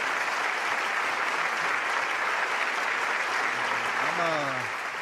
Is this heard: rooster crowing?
no